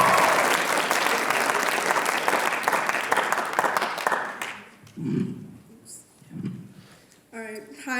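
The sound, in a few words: audience applause for a student poet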